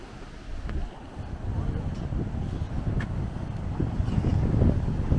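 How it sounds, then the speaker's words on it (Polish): Strong wind buffets the microphone outdoors at the seaside in Lloret de Mar, a loud steady roar that swells toward the end, with distant surf underneath and faint voices mixed in. "Strasznie wieje"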